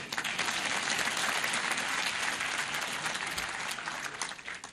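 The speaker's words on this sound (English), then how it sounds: "Clap for her again" Dense, continuous audience applause at a TEAU University graduation ceremony, loud and even throughout, with many hands clapping together and almost no talk.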